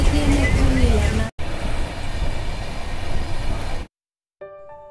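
A fast-moving passenger train rumbles along with a continuous loud roar and rattle, broken by a brief dropout, then cutting off to near silence before faint tonal sounds return.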